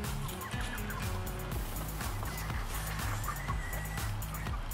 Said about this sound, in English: A clucking goose.